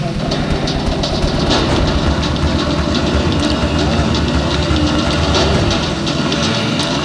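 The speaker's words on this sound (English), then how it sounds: "the problem that occurred here was that the spark plug of the bike went dead" A dirt bike with a dead spark plug, out on an enduro ride, roars loud and close in a dense continuous rumble that sags briefly near the end.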